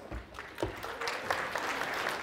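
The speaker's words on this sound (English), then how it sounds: "Alrighty, give them a round of applause," Classroom students clapping after a pricing experiment in an economics lesson, a few scattered claps at first that swell into steady, modest applause, somewhat distant and fairly quiet.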